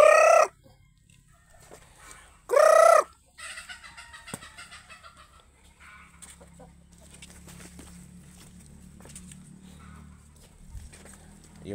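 Chickens and ducks on a farm respond to a feeding call with two loud rooster crows, followed by a stretch of steady clucking and fowl chatter.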